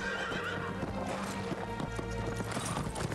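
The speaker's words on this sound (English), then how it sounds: "Where did that horse come from?" Horse hooves clip-clop in a steady rhythm with a neigh in the Ghost of Tsushima video game, loud and continuous alongside game sounds.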